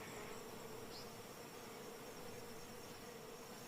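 A swarm of bees clustered on an acacia tree near Lake Manyara makes a steady, dense insect buzz that holds at an even level throughout, with no voices.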